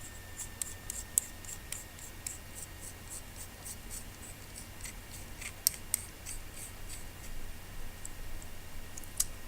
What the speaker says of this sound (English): then you take your housing unit and screw this on